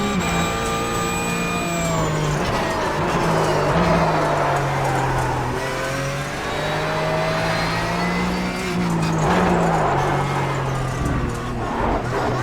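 Race car driven in the iRacing simulator, its engine a loud, continuous buzzing drone whose pitch rises and falls with throttle and gear changes, with no pauses throughout.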